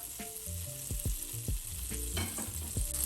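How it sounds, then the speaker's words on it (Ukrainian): Butter melting in a hot frying pan, sizzling and crackling steadily up close, with scattered soft clicks and taps over the hiss. "Беремо шматочок вершкового масла і додаємо його в сковорідку"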